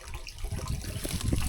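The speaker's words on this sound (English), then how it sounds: "we've still got water running in for the pigs" Water runs from a pipe into an IBC tank filling for pigs, a steady gurgling splash with low churning rumble, close and continuous, heard alone.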